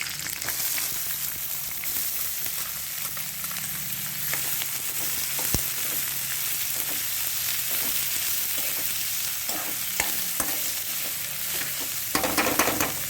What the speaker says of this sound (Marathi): हिंग टाकू, कढीपत्ता टाकू, कांदे टाकू